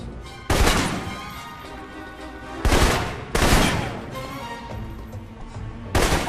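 Assault rifle fire in the Alpha Protocol video game cracks out in four sharp bursts, spaced irregularly over a steady, quieter background bed.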